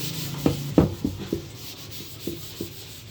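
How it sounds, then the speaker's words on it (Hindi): A cloth rubs polishing compound by hand onto a fuel tank, making soft scattered scuffing strokes, a few sharper rubs and taps over a faint steady background hiss. "पहले कंपाउंड को अच्छी तरह लगा लेंगे, उसके बाद जो है हाथों की मदद से इसको रगड़ना है।"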